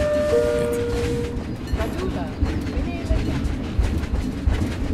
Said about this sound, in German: Achtung, Bahnhofsansage.